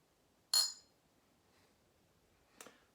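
Glasses clink together in a toast with Rebel Yell wheated bourbon, one bright, loud ring followed by a faint tap and then a second softer clink, in an otherwise quiet room.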